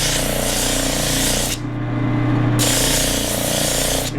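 A flexible drum sander works over a piece of wood, giving a steady, loud, close whirring hiss that drops briefly in the middle and then resumes, with no voices.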